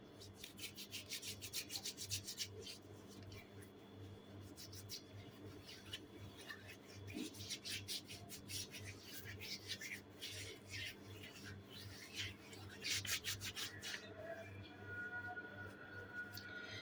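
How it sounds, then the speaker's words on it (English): Hands scrubbed with a gritty watermelon and baking soda scrub, giving a steady wet rubbing and rasping sound that stays up close, with a low constant hum running underneath throughout. "You can scrub your hands as well."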